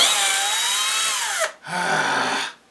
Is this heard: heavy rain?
no